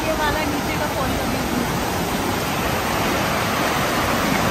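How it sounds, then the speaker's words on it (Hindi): Water rushes steadily over rocks below a waterfall in Slovenia's Vrata Valley, a dense, constant broadband wash with no break across the whole stretch. "वही पानी बह के आ रहा है, लेकिन फिर भी बहुत सुंदर लग रहा है पत्थरों में से बहता हुआ पानी।"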